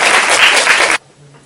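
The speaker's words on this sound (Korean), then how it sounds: "박수." A lecture audience at a university meditation class bursts into loud, dense applause for about a second, then it cuts off abruptly to near silence.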